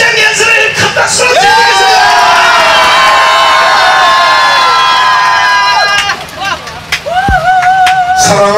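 A loud outdoor crowd cheers and shouts at a rainy Busan campaign launch rally for candidate Lee Jong-hyuk, with a long held siren-like whistle tone over the noise and a voice breaking through near the end.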